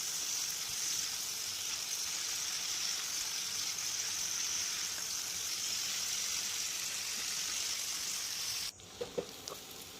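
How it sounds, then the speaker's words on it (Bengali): Potato and pumpkin pieces fry in a pan on an induction cooktop, giving a steady, close sizzle that cuts off abruptly near the end, followed by a few soft clinks. "তো বেশ ভালো করে আমি এটাকে ভেজে নিচ্ছি, আলু এবং কুমড়োটাকে"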